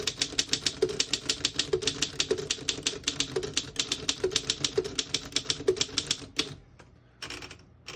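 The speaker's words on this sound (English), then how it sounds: "I'll type a sentence in the next line." A 1927 Underwood No.3 desktop typewriter typing a sentence: rapid, evenly spaced sharp keystrikes close up, with a few bell-like dings and a carriage movement before a short pause and a couple of final strikes.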